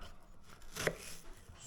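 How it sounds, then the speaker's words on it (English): A knife chopping onions on a cutting board while preparing a flipper pie: a few quick chops, with one sharp, distinct cut standing out in the middle, close and clear. "so I'm cutting the onions"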